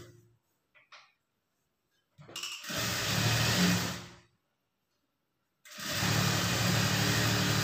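An electric sewing machine stitches a folded blouse piece in two loud, steady motor bursts of about two seconds each, separated by a short silence, with faint handling clicks at the start.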